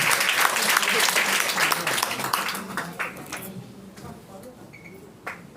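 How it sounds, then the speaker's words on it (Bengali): Loud, dense applause from an audience greeting a speaker walking onto a stage at a gathering, strongest at first, then thinning out into scattered claps before fading. "একবার জোরদার হাততালি হয়ে যাক স্যারের জন্য"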